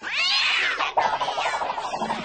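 A loud, drawn-out cat meow from a 1996 comedy movie trailer, a long wavering yowl followed by a shorter trilling cry, close and prominent with no speech.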